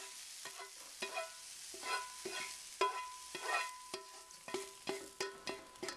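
Mushrooms fry in oil in a pan while a utensil stirs them in quick, rhythmic scrapes over a soft, close sizzle.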